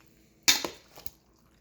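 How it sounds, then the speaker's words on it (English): Spaghetti and meatballs being stirred together in a pot by hand, giving a sharp metallic clank followed by a couple of softer scraping knocks, close and brief in an otherwise quiet room. "what I'm going to do now is I'm going to mix this together"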